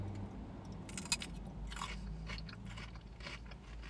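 Crunchy bites of cucumber dipped in English mustard, a few crisp snaps and chewing sounds close to the microphone, with no talking.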